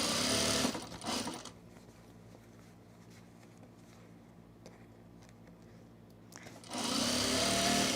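Sewing machine stitching fabric and vinyl, loud rapid mechanical whirring at the start and again near the end, with a quieter pause between the two bursts.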